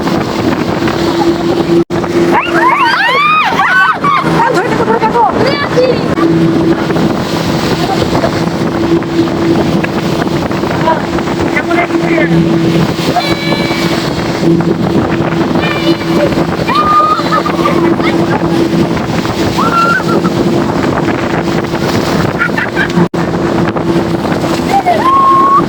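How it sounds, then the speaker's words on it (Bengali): A speedboat ride on the water near Subarnagram Park and Resort in Narayanganj carries a constant engine drone, rushing water and heavy wind buffeting the microphone, with faint voices now and then. "তো আমরা স্পিড বোট রাইড দিয়ে চলে এসেছি"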